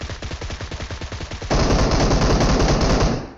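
Rapid automatic gunfire from PUBG Mobile, a steady stream of evenly spaced shots that swells into a louder, denser burst of fire halfway through, with no talking.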